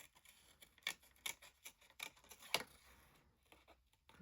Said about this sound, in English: I'm just going to use my Pergamano scissors, which are my scissors of choice for cutting out the fine detail